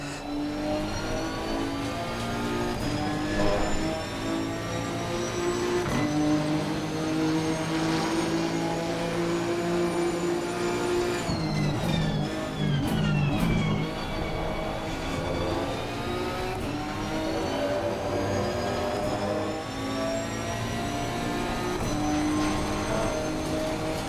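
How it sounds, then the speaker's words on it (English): A racing car's exhaust in the video game Assetto Corsa Competizione drones and shifts pitch steadily as it speeds along, loud and continuous, with a brief change in tone midway past the pit wall. "get ready for the exhaust sound change as we go past the pit wall"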